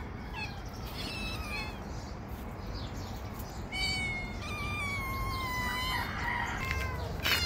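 A pet cat meows several times, with drawn-out, wavering cries close by over a low background hum, the calls growing louder and more frequent in the second half.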